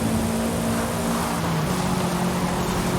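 Engine of a rally car in the racing game Forza Horizon 5, a steady loud droning hum with a sustained tonal whine throughout, no talk over it.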